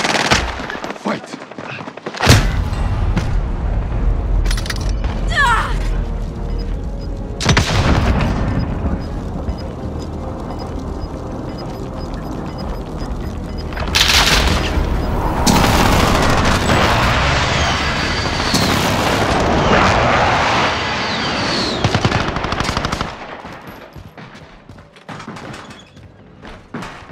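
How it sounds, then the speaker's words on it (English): Precision airstrike explosions in a video game battle erupt between bursts of heavy gunfire, with loud booming impacts and long rumbling, crackling blasts in the middle section, fading near the end. "Be advised, friendly precision airstrike inbound."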